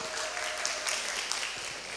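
Audience applause at a physics quiz competition grand final, a dense steady wash of many hands clapping throughout, fairly distant and even in level.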